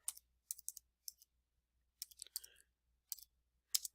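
Light, quiet keyboard typing in short bursts of key clicks, separated by pauses, with nobody talking.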